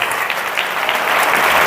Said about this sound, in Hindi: ताली बजा के प्रभु के नाम को महिमा करे।